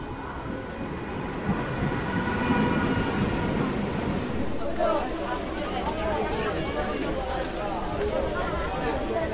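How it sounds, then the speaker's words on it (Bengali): A Sealdah–Lalgola MEMU train rumbles into a station with a steady, loud mechanical roar and faint rail clatter, while voices chatter throughout. "আমাদের ট্রেন 1 নম্বর স্টেশনে ঢুকে গেছে"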